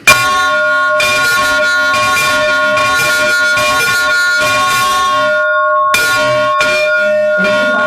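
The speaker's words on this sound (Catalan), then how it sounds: "Això seria com toquem les campanes grans, aquella que es toca així." Large church bells in Montblanc, Catalonia toll loudly and continuously, their rich overlapping strokes ringing out with a brief lull before the peals resume.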